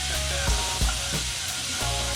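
Garlic sizzles steadily in a hot pan for stir-frying, a continuous close frying hiss broken by a few soft stirring bumps.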